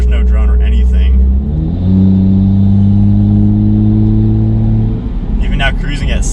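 A Toyota A90 Supra fitted with a downpipe and AWE exhaust pulls through the gears, its engine drone climbing steadily in pitch, easing at a shift and rising again, loud and close from inside the car, with a voice talking over the start and end.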